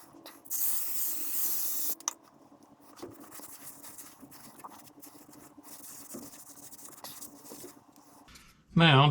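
Engine enamel paint hisses from a spray can onto parts of a 1965 Ford F100, with short close bursts followed by quieter handling noises and a louder clatter at the end.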